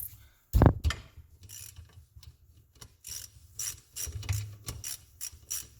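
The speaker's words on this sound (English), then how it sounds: "you can take these 2 Allens out of here and get the tensioner out" Metal tool clicks and ratcheting while removing two Allen bolts from the timing chain tensioner of a Raptor 660 ATV, a sharp clank followed by scattered close mechanical clicks and scrapes.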